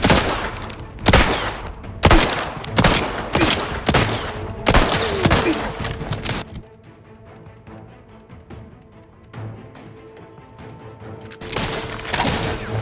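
Rapid bursts of gunfire and grenade explosions in the sci-fi shooter game The Outer Worlds 2, with loud volleys clustered in the first half, a quieter lull, then renewed firing near the end.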